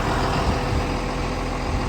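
A John Deere 6 Series tractor engine runs steadily with a loud, continuous low rumble while hitched to a Horsch Maestro 12 CV seeder on a farm in Odesa region. No voices are heard.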